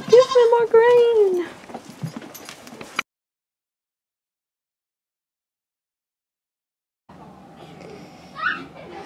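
Goats bleat loudly close by just outside a door, several wavering calls that overlap someone talking, then silence, then fainter bleats and noise return.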